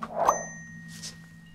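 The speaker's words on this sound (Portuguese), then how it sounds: "É um sino totalmente conhecido." A single bell strike rings out in the horror video game White Night, with a bright clang that leaves a sustained metallic tone fading slowly over a low background hum.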